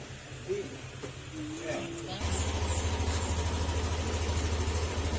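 A Yamaha Aerox 155 scooter with a fuel pump fault cranks and catches after about two seconds, then settles into a steady, close, low idle hum, with people talking in the background.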